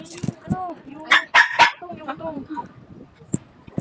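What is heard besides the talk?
dog barking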